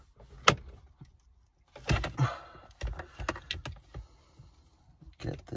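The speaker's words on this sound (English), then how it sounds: "There's a little plastic clip in here that I'm just trying to remove" A small plastic clip is pried out of a car's insulated shift knob, giving a scattered run of sharp plastic clicks and snaps with short pauses between efforts.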